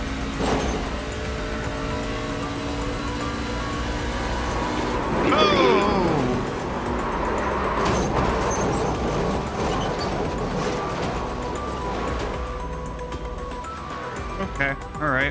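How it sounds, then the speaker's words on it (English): Race car engines in the iRacing simulator, a continuous droning roar with a rising and falling engine sweep as a car passes near the pit exit, under constant talk over team radio. "There's a car exiting the pits now."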